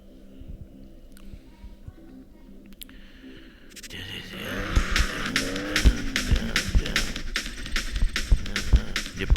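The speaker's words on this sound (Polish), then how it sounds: "Będę się ścigał z Dariusem, ale widzę, że ma dużo gorszą wersję BMW Coupe" A BMW Coupe races in the video game Need for Speed No Limits: after a quiet menu-like stretch, loud engine roar and tire squeals surge in, with repeated skids and revving over game music.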